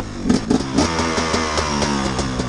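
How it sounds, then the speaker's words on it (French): A motorcycle engine idles and revs nearby, with a steady loud mechanical rumble and rhythmic pulsing throughout, with no talking. "alors là, notre moto, elle est démarrée"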